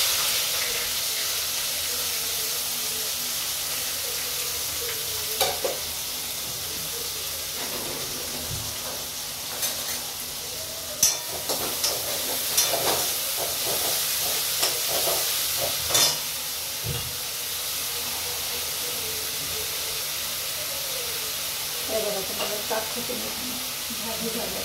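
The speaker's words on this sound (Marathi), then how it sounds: "आलं लसूण कांदा टोमॅटो छान परतून घेतले" Onion, tomato, ginger and garlic sautéing in a pan, with a steady frying sizzle and hiss throughout and occasional stirring scrapes and clinks near the middle.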